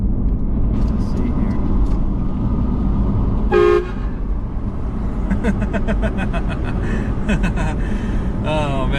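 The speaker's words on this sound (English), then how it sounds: "I totally forgot I had the air horn." An air horn on a turbocharged 5VZ Toyota 4Runner blasts in a short loud toot over the steady road noise of the moving vehicle, followed by several quicker horn bursts near the end, with someone talking.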